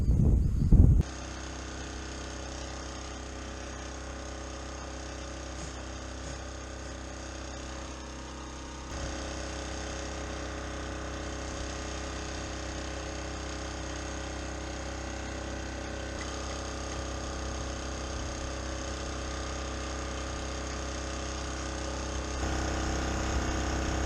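A generator runs with a steady, continuous mechanical drone and hum for the whole stretch, broken only by a brief knock at the start, with no talking over it.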